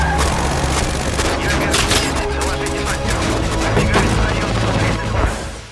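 Heavy gunfire erupts in a Russian war movie battle scene as troops open massive fire on militants, with dense, continuous rattling bursts and booms layered over a loud rumbling soundtrack.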